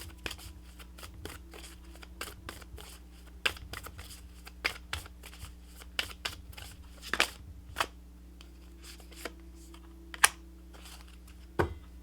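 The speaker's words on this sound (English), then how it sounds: "let's pull you some additional guidance cards" Tarot guidance cards being shuffled and pulled give a run of sharp, crisp card snaps and flicks in an irregular rhythm, close and fairly quiet, over a steady low hum, with no talking.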